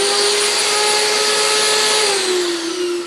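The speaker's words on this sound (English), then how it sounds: "I'm gonna vacuum the keyboard to get all the crumbs out" A loud, steady vacuum cleaner with a brush attachment whirs close by, cleaning crumbs from a laptop keyboard, its motor pitch dipping slightly near the end as the brush moves across the keys.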